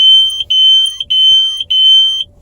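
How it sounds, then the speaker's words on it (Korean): A carbon monoxide alarm sounds inside a car, loud and close, with piercing electronic beeps in a quick repeating pattern of long tones separated by short gaps. "이렇게 지금 경보기 옵니다"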